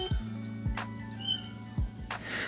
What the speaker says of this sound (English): And if you can hear the kittens in the background